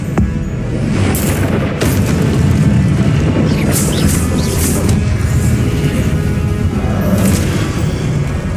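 Spellcasting combat in Hogwarts Legacy, with loud booming blasts and crashing impacts repeating over several seconds, each burst cracking sharply in the foreground.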